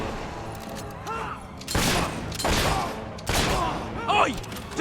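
Bursts of gunfire in the game Fable, several loud volleys of crackling shots arriving in separate clusters, with shouting voices heard between and over them.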